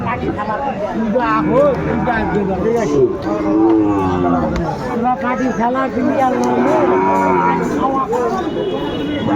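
Cattle of the Sahiwal breed on a farm, mooing loudly and repeatedly among overlapping voices and general chatter close by.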